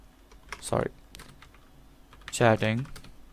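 Someone types on a computer keyboard while writing JavaScript code, a soft run of close key taps heard between two short spoken phrases.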